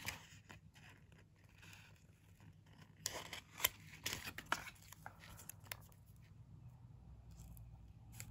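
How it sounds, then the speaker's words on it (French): Scissors cut through a roll of postage stamps close by, giving quiet paper snips and crinkles that cluster into a few sharper cuts near the middle, faint overall with no talking. "Donc, je vais couper le rouleau."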